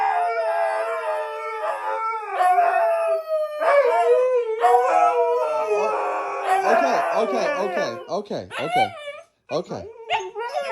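A husky howls and whines in long, wavering, rising and falling cries that run through most of the clip, with yips near the end, while a person talks close by.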